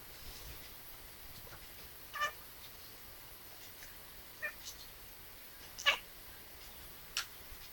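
A cat meows four times, brief soft calls spaced a second or two apart over a quiet room.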